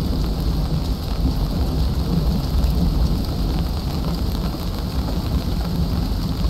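A video-game thunderstorm pours heavy rain, with a constant dense hiss of drops and a low rumbling thunder underneath, loud and unbroken throughout.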